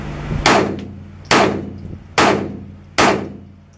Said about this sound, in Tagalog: Caliber 22, 4 shots, 18 meters.